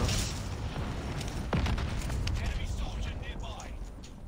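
Gunfire and explosions in the video game Warzone, a steady barrage of booms and shots throughout with one sharp burst midway, heard under players talking.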